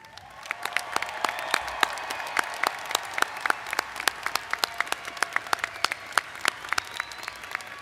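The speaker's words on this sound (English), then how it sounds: "one more big applause to the newest graduates of the University of Houston Clear Lake" Sustained applause from a commencement audience cheering new University of Houston Clear Lake graduates at the 2025 spring ceremony, dense clapping with sharp individual claps standing out over a steady crowd roar.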